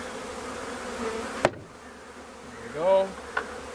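Honey bees buzzing around a package cage while being installed into a Langstroth hive, a soft continuous hum close by, with a sharp knock partway through and a brief spoken phrase near the end.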